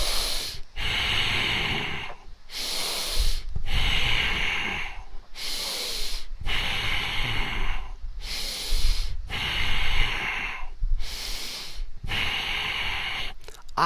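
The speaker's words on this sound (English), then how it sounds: "Breathe in." Seated dynamic tension bodybuilding exercise brings loud, deep breathing close to the mic: about seven long, forceful breath cycles in a regular rhythm, each a rushing hiss of air with brief silent pauses between.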